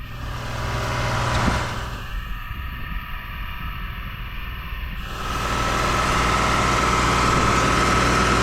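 A big white tractor pulling a disc through a field: a steady, loud, low engine drone that dips for a few seconds and then rises again to a heavier roar.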